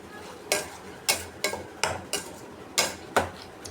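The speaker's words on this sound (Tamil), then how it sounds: "இஞ்சி பூண்டு பேஸ்ட்டு தக்காளி வெங்காயம் சோம்பு கறி மசாலா எல்லாம் போட்டு நல்லா வதக்கணும்" Ginger-garlic paste, tomato, onion, fennel and curry masala being sautéed in a pan, with a series of sharp, evenly spaced scrapes and clanks of a spoon against the metal over a faint background sizzle.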